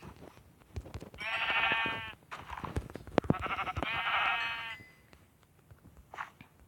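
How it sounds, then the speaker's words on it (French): Sheep in the game Minecraft bleat twice, each a wavering nasal cry lasting about a second, against quiet game ambience with faint clicks. "bah des moutons, je vais en tuer"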